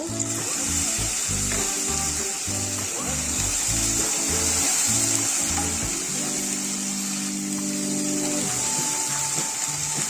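Ginger paste hits hot oil in a pan for a poppy-seed mrigal fish curry, giving a steady, close sizzle and frying hiss that runs throughout under faint background music.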